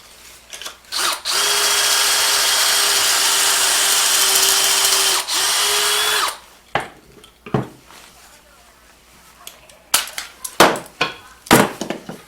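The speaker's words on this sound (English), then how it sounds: "we're going to drill a little pocket hole so we can attach them to our legs" A power drill bores pocket holes into 13-inch wood pieces for a planter box in one loud, sustained whine of about five seconds, followed by clattering knocks and handling clunks.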